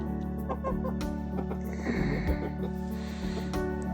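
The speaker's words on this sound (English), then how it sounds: "We have too many chickens." Chickens cluck and murmur close by in a steady, low chorus, with a louder flurry of snorting clucks in the middle.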